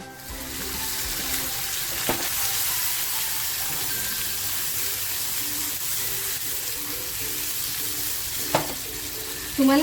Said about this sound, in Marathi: आता ही मच्छी घेतली आहे ना, ती मच्छी मी या तेलामध्ये टाकणार आहे